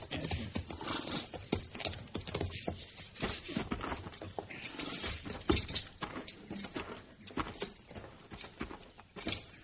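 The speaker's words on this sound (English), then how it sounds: "Let's leave the horses here." Horse hooves clip-clop steadily on hard ground, a busy close patter of several horses walking, with no voices.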